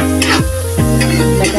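Milkfish seasoned with ground pepper is stirred in a pan, a utensil scraping in a few quick strokes over a close, loud, steady sizzle.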